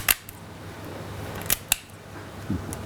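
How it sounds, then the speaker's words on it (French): Three or four crisp, sharp snips from small scissors cutting lobster shell, spaced irregularly, with a faint low knock near the end. "je vais utiliser une petite paire de ciseaux"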